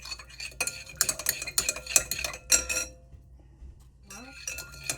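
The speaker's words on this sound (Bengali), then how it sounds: "আমি এখন এই এক চা চামচ পরিমাণ আগার আগার পাউডার দিয়ে এটাকে সুন্দরভাবে গুলিয়ে নিব এখন মিশিয়ে নিচ্ছি" A spoon clinks and scrapes in a bowl while agar agar powder is stirred into a layered dessert mixture, with rapid irregular taps for about three seconds, a short pause, then more stirring.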